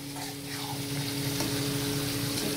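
Mutton sizzles steadily as it is sautéed and stirred in a pan for a spicy mutton curry, a continuous close frying hiss with a faint hum beneath it.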